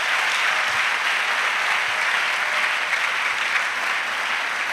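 A church congregation claps as an offering to Jesus during a bilingual French and English service, a dense, steady wash of many hands that holds evenly from start to finish with no talk.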